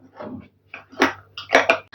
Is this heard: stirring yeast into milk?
yes